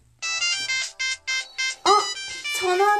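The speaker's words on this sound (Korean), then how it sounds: "전화 왔다." A phone ringtone plays in a dark room just after the lights go out on a honeymoon night, a repeating melodic chime in short bursts, then a voice speaks over the continuing tone.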